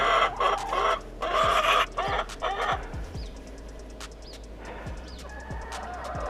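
Hens cluck and squawk in a coop lined with fine pine shavings, close and busy, with repeated short calls and a few louder burst phrases over faint scratching.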